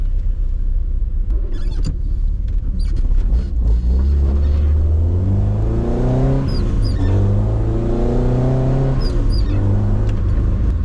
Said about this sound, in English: So let's go for a quick little drive.